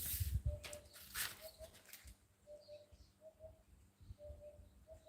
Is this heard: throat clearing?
no